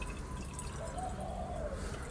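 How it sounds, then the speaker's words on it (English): Water being poured into the reservoir of an espresso machine, a steady trickling and filling sound running continuously at close range with a gently rising tone. "Guess we'll put in some water."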